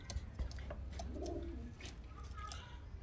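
A pigeon gives a low, soft coo partway through, mid-distance, over a steady low hum and faint background noise.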